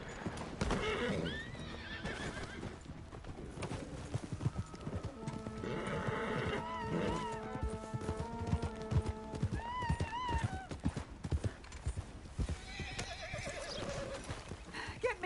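A horse in the Red Dead Redemption video game whinnies several times over steady clip-clopping hooves, fairly close and clear, with no talking.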